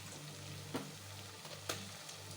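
Raw washed chicken pieces go into frying paste in a pot for Hyderabadi chicken dum biryani, giving a steady, moderate sizzle with a couple of brief stirring clatters and no talk.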